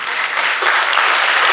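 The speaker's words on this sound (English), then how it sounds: "please give a round of applause to this first speaker" Loud, dense audience applause greets the first speaker at a talk for college students, a continuous wash of many clapping hands close by.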